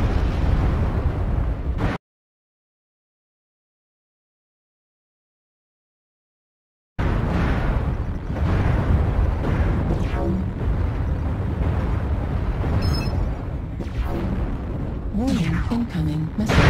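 Incoming missile explosions in MechWarrior Online, dense rumbling blasts and bursts of battle noise after a brief dropout of silence, with a synthetic cockpit warning voice sounding amid the din.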